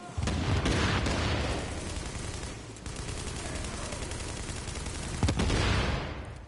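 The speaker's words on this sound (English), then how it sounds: "How can he shoot me?" Gunfire in a Destiny-style shooter game, a dense stretch of shots and blasts running nearly continuously at steady loudness, with heavier booms near the start and near the end.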